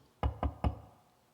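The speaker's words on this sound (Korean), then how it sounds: "이건 제가 두드리는 겁니다." A preacher knocks three times in quick succession on a hard surface during a Sunday church sermon; the raps are close, sharp and evenly spaced, then fade into a quiet room.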